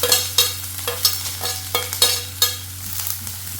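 Chopped onion stirred in hot oil after mustard seeds and black cumin have spluttered, a close sizzle with regular scraping strokes of a spoon against the pan roughly every half second over a low steady hum, no voices.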